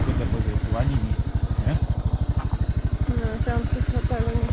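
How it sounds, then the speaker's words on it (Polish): A rented scooter's small engine putters steadily while riding along island roads on Koh Rong, Cambodia, a loud, even chugging pulse throughout with people talking over it. "Dali nam skuterek, a my jeździmy po takich drogach pięknych."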